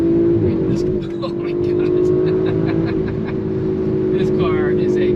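A 2019 Audi RS5 Sportback accelerating up an uphill highway on-ramp, its engine drone loud and steady inside the cabin with a rising tone, while a person exclaims briefly over it.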